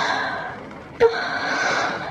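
A single sharp intake of breath, taken on request during a medical examination, stands out briefly and close against a faint background hiss.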